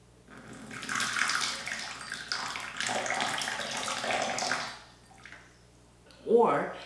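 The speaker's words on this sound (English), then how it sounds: "So if I pour water from here," Water poured from a kettle for gong fu tea makes a steady splashing stream that runs for several seconds, then stops briefly before one short, louder final splash, close by with a voice speaking at the start.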